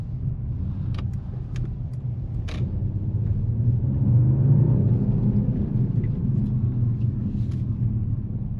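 A 2024 Mercedes-AMG CLE 53 Coupe engine rumbles low and steady while driving, swelling slightly midway, with a few faint clicks on top and no voices.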